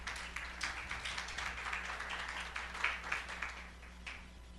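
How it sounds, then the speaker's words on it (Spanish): A church congregation claps for the Lord in a loose, steady patter of hands over several seconds. The applause is fairly faint, with a low electrical hum running beneath it. "dele un aplauso al Señor"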